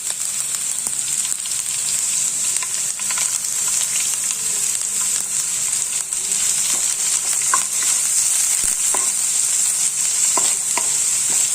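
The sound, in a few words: carrots sautéing in a pan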